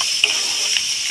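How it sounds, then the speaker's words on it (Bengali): Capsicum and mixed vegetables sizzle steadily in a hot pan during stir-frying, a constant close hiss broken by three soft scrapes of a stirring spoon. "দিয়ে এটাকেও নাড়াচাড়া দিয়ে ভালো করে ভেজে নেব"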